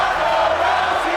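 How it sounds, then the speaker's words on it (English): Arena crowd cheering in the WWE 2K24 wrestling video game, a dense, sustained roar of many voices at a constant loud level without break. "And the crowd really behind Ronda Rousey at the moment, especially here tonight"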